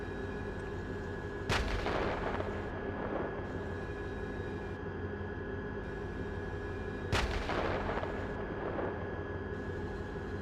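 A tank main gun fires at targets beyond 2,000 meters, two sharp, heavy booms several seconds apart, each followed by a long rumbling echo over a constant mechanical hum.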